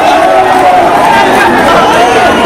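A dense crowd gathered at Feroz Shah Kotla stadium to see Virat Kohli at a Ranji match, its continuous loud chatter and overlapping voices filling the air at a steady level.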